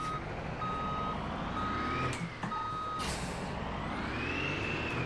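A heavy truck in BeamNG Drive rolls backwards while its reversing alarm beeps steadily, with a sharp air-brake hiss partway through and the engine droning underneath.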